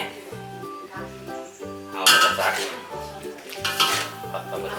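Stir-fried basil squid is scooped from a pan onto a plate: close metallic scrapes and clinks of a utensil against cookware, with music playing underneath and a few louder clatters near the middle and end.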